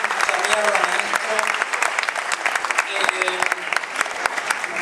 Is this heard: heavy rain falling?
no